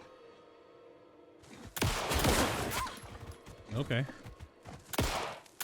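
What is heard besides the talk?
gunfire shooting in video game Alan Wake II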